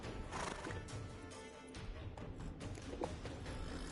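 Horse hooves clip-clop over repeated dull thuds while a horse whinnies, set against busy background sound, fairly faint overall.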